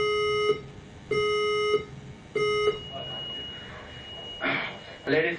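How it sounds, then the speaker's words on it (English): A hotel fire alarm gives three loud, evenly spaced electronic tones, each about half a second long. After that a continuous tone hangs in the background while a voice starts to speak. "The fire alarm has been activated in the building."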